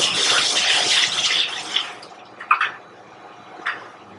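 Hot water is dumped from soup station equipment into a restaurant kitchen's dunk sink at the end of a shift: a loud, steady splashing gush for about two seconds, then a few scattered drips and trickles.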